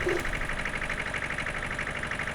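A vintage tractor engine labours while pulling a harvester, a steady, close, rhythmic chugging drone with a pulsing beat throughout and no pauses.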